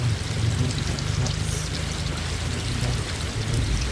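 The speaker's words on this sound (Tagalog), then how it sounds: "So, dito kami dumaan sa sapa." Footsteps wading through a shallow creek, with steady water splashing and sloshing close by, continuous and fairly loud with no talking.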